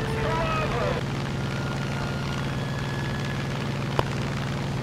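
A fighter plane engine in the War Thunder air battle game drones loud and steady, with a low rumble, a brief sharp tick near the end and a faint whine at the start. The plane is flying damaged after ramming a Spitfire.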